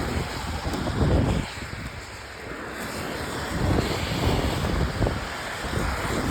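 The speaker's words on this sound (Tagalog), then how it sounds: "Ganitong kalakas yung hangin." Strong storm wind roars and buffets the microphone in gusts that rise and fall, loud and close, with no talk.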